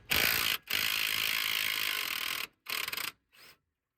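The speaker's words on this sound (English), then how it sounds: "I was able to undo the nut with the impact gun itself" A pneumatic impact gun fitted with a 21 mm hex socket hammers loose a tie rod nut on a BMW 530d F07 GT, up close in a few loud bursts: one short, one long sustained rattle, then two brief tapering ones.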